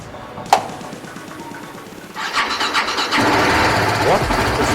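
A BMW RR 310 motorcycle with a weak, nearly dead battery cranks and fires up, then settles into a steady, loud, close idle, with someone talking over it.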